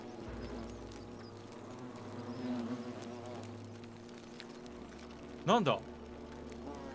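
A bee buzzing in the video game The Forgotten City, a faint droning hum under low game ambience, with someone speaking briefly near the end.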